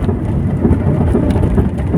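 Thunder rumbles low and continuous through steady rain, a dense, loud wash of sound with no voices over it.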